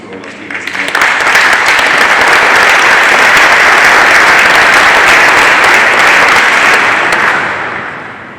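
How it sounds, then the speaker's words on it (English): A conference audience at a Portugal–UK cyber security dialogue gives speakers and moderators a loud, sustained round of applause that swells quickly, holds dense and steady, then fades out. "So how about one more round of applause for all our speakers and moderators?"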